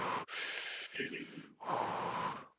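A voice imitates Darth Vader's heavy breathing through a gas mask, with two long hissing breaths separated by a short gap, loud and close.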